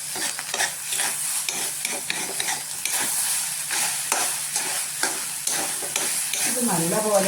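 Egg rice is stirred and fried in a pan, a steady sizzle under repeated scraping strokes of a spoon against the pan, close and continuous throughout.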